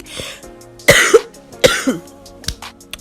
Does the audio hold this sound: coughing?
yes